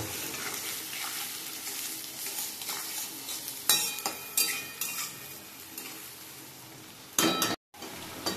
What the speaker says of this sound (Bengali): এটা কিন্তু আমি এখন ভালো করে ভেজে নিচ্ছি